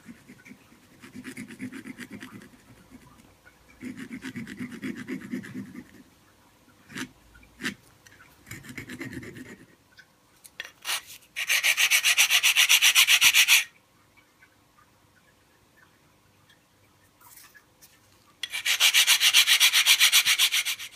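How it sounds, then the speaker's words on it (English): Brushing and scrubbing out the grooves of an SV650 motorcycle's front brake caliper: soft rhythmic rubbing strokes in short bursts, then two louder, harsher stretches of sustained scratching, close up with quiet gaps between. "cleaning out all the grooves"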